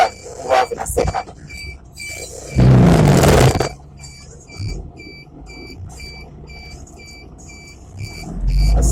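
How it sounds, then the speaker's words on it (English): A Shacman truck engine pulls away in second gear, a low rumble with a brief loud burst of broadband noise near the middle and faint voices in the cab. "But I'm going to move off in a second for safety."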